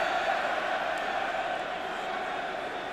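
Nearly 52,000 spectators at a Wales versus England rugby match roar in a sustained, distant wash of crowd noise filling the stadium, with no single voice standing out.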